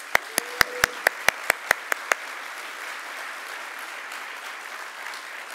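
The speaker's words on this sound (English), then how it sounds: "Let's give them another round of applause." A faculty assembly audience gives a short burst of applause, a string of separate sharp claps about every quarter second that stops after two seconds, leaving quiet room tone.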